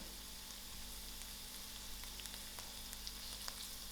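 Garlic and thyme sizzle steadily in hot oil in a pan for prawn biryani, a soft continuous frying hiss with faint scattered pops, low and even throughout with no voices.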